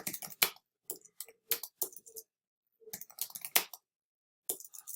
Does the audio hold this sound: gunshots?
no